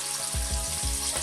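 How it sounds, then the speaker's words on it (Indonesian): Pieces of flour-coated chicken fry in hot oil over high heat, giving a steady close sizzle with a few soft thumps and bubbling bursts throughout. "Goreng dengan menggunakan api besar di awal hingga ayam kokoh"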